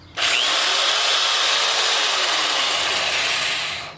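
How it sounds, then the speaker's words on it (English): A large hammer drill powered by a GOOLOO 500W power station whirs steadily at close range for about four seconds, a continuous high-pitched motor drone with no pauses and no voices. "This large hammer drill,"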